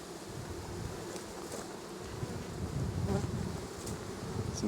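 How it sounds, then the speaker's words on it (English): Honeybees in an opened hive, with only a few on top, give off a steady, dense buzzing close by that swells slightly toward the end, with no voices over it. "Some bees on the top."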